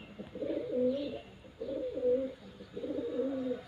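Kangra cherry racing pigeons at a one-day pigeon flying cup in Haripur coo close by in three distinct, evenly spaced throaty bursts over a quiet background, with no talking.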